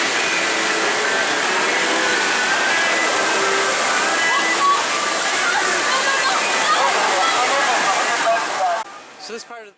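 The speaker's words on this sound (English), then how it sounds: "So here we are at the Thunder Canyon, which is the park's whitewater rapids ride." Rushing water churns loudly and continuously at the Thunder Canyon whitewater rapids ride at Cedar Point amusement park, a broad roaring wash with a voice talking over it before fading near the end.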